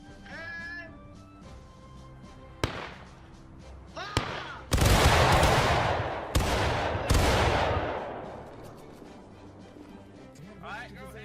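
Company musket volley in the War of Rights Civil War shooter, several heavy crashing shots fired close together, rolling out loudly amid shouted commands and voices.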